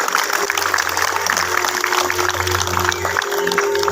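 Audience applause at an SPSI workers' union weekend event for PT Cort Indonesia, a dense wash of clapping and crowd noise with a steady low hum beneath, loud and continuous throughout.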